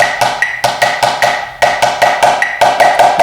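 Snare drum playing a practice exercise measure at tempo 150, crisp, close strokes in a steady rhythmic pattern with quick clustered hits and accented notes, no talking.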